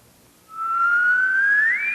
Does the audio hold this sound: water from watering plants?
no